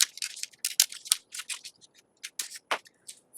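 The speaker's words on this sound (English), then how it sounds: "cut along one of these dart legs" Scissors snip along a dart leg of a paper sewing pattern, a quick series of close, crisp cutting strokes with brief pauses between them.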